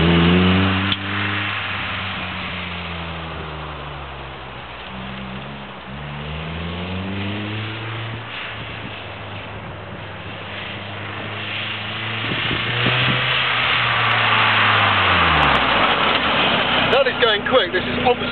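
An EXOCET XS kit car built on a Mazda MX5 with the 1.8 engine drives past, its engine note rising and falling loudly through gear changes, with someone talking over it.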